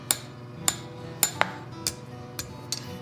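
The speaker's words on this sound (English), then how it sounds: "Just tapping it down over the edge" Sharp metallic taps, about seven in a loose rhythm, close and fairly loud, as a metal piece is hammered down over an edge while finishing a raven skull for a coyote skin cloak.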